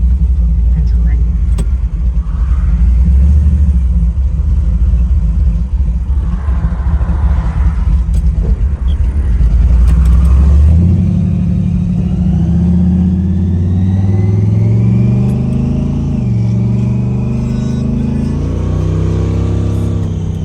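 A 1997 Polaris XCR triple snowmobile engine idles and revs loudly up close, rising in pitch in the second half, with belt noise in the mix and voices talking over it.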